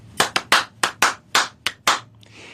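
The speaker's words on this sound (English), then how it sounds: "Clapping music is constructed out of basically one repeating pattern" Two people clap the repeating rhythmic pattern of Steve Reich's Clapping Music, crisp close hand claps in an uneven grouped rhythm of about eight sharp strikes.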